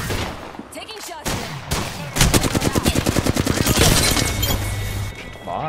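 Gunfire in the video game Apex Legends during a Season 21 quads match: loud, rapid automatic bursts with a steady rattling rhythm, building through the middle and easing at the end.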